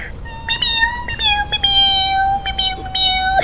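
A cat meows repeatedly in long, rising-and-falling cries close by, one drawn-out wail after another with barely a pause between them.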